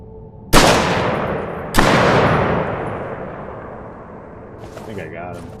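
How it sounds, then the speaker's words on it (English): Rifle shots fired at a spider in the video game Hiraeth: two loud, sharp booms about a second apart, each followed by a long rumbling decay, with faint rustling afterward. "I'm gonna see if I can snipe him from over here with the rifle"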